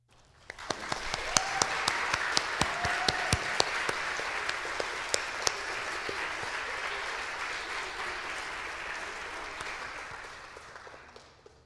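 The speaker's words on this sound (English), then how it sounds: "can I have all Eagle Scouts in the room please stand to be recognized with a round of applause?" Applause from an audience in a room as Eagle Scouts stand to be recognized at a Scout court of honor, a steady wash of many hands clapping that swells quickly and holds for about ten seconds before tapering off.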